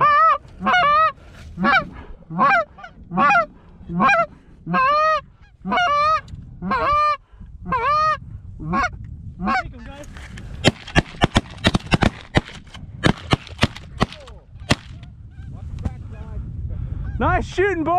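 Canada geese honk loudly and rhythmically as they fly in low over a hunting blind, with repeated close calls at first and then sharp shotgun blasts and shouting.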